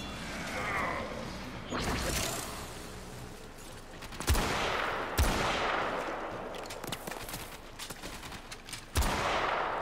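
Several sharp, booming sniper rifle shots go off in a video game, each one a loud single crack with a decaying tail, spaced a second or more apart over a low ambient bed.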